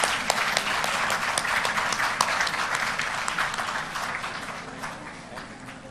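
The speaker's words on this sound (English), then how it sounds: "please keep applauding for our wonderful session chairs" A conference audience claps for the session chairs, with many sharp individual claps standing out from a broad crowd of applause that gradually softens over several seconds.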